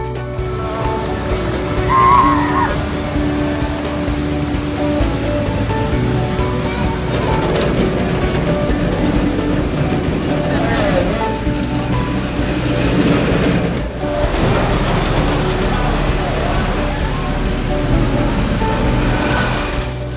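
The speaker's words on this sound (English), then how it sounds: "we are on our way in for the new for 2019 Gravity Group Wooden Family Coaster, and Bean is incredibly excited." A ride on a new 2019 Gravity Group wooden family roller coaster at Kentucky Kingdom, with a continuous loud rumble of wheels on wooden track, rattling and clattering mechanisms, and surges of intensity throughout.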